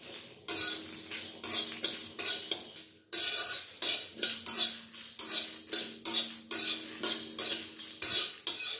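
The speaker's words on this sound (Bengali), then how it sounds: "শুকনো লঙ্কা, এটাও একটু শুকনো কড়ায় ভেজে নেব" Cumin, coriander and dried red chillies dry-roasting in an unoiled pan as a utensil stirs and scrapes them in quick rhythmic strokes, close and fairly loud, with a brief pause partway through.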